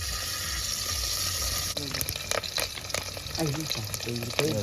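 Garlic and green chillies drop into hot oil, a dense steady sizzle that breaks into clattering stirring and sputtering bursts, with a voice speaking briefly over it, close by.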